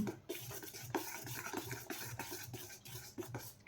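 Eggs with salt being beaten in a bowl, a quiet continuous scraping and tapping rhythm of utensil against the dish, steady and close.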